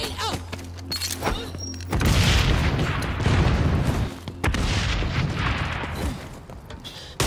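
Gunfire and a booming grenade blast in the online shooter XDefiant, with heavy, continuous combat noise rolling on loudly for several seconds after an opening stretch of scattered shots.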